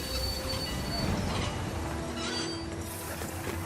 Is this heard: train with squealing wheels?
yes